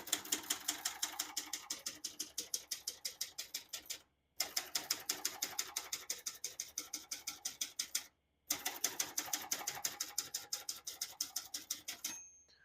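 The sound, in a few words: typing on a portable manual typewriter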